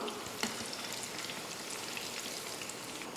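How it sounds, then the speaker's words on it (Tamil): Crispy wheat flour snacks deep-fry in oil over low heat, a steady, dense bubbling sizzle with faint stirring clicks, close and moderately quiet, without any voices. "கொஞ்சம் லைட்டாக மட்டும் ஸ்டவ்வை குறைச்சி வச்சுக்கிட்டே ஃப்ரை பண்ணி எடுத்துக்கலாம்"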